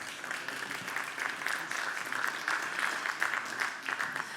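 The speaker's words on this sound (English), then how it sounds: "Another round of applause." Steady, moderately distant clapping from an audience at an automotive innovation awards ceremony, an even patter of many hands continuing without pause.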